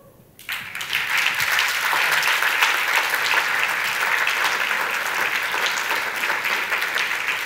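Audience applause at a talk on the 1619 Project, bursting in after a brief quiet start and holding as a steady, dense clapping wash throughout, loud and unbroken with no voices over it.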